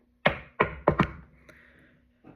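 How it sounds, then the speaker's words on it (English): Four sharp, hollow knocks on a door in quick succession, followed by a faint tap and a softer knock a moment later. "they heard a knock on the door"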